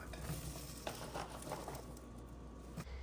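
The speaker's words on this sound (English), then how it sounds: "And we're just gonna dry fry them." Green beans dry fry in a pan with no oil, giving a soft, steady sizzle with faint crackles and occasional stirring scrapes, quiet and continuous.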